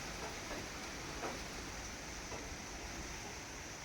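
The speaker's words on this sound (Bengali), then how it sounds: "প্রচণ্ড গতিতে ঝড় দিচ্ছে, ঝড়ের আওয়াজটা তোমরা শুনতে পাচ্ছ" Storm wind blows at night in a steady, broadband roar with faint gusty swells and no voices, holding even and moderately quiet throughout.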